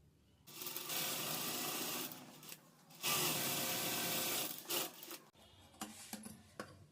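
An electric sewing machine runs in two sustained bursts while stitching the side seam of a blouse, each run a steady whirring hum with brief stops, followed by short clicks and handling sounds.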